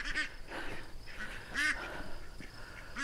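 Farm ducks being herded toward their coop quack in several loud nasal calls scattered across the moment, close by over faint outdoor background.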